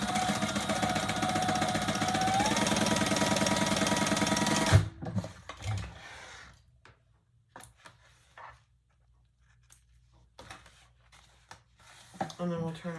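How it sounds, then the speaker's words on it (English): A sewing machine stitches up the sides of a handbag's inside slip pocket with a continuous fast mechanical whirring and rattling for about five seconds, then stops, leaving quiet handling noises and a few soft clicks. "we're going to stitch up each side."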